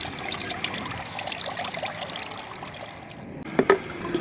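Homemade jeevamrutham, a liquid organic fertilizer, poured through a mesh filter for plants: a steady close trickle and splash of thick liquid, with a couple of louder sloshes near the end.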